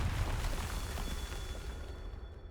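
Confringo fire spell in Hogwarts Legacy exploding, a broad rumbling blast that rolls on steadily for a couple of seconds and fades slightly, moderately loud with no talk.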